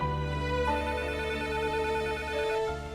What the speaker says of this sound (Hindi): फोन बज रहा है, मैं देखता हूँ